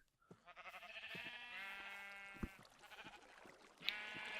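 Minecraft sheep bleating in a multiplayer survival world, several wavering harmonic bleats running together for a couple of seconds, followed by a short sharper bleat near the end, close and clear with no talk.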